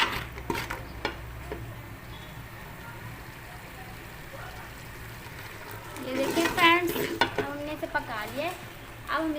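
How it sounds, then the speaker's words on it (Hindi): A pot of Punjabi kadhi simmers quietly, then bursts into a louder sizzle and crackle as curry leaves hit hot oil, with stirring scrapes and someone talking over it. "और साथ में हम ये कड़ी पत्ता भी इसमें ऐड कर देंगे और हम इसे पकाएंगे।"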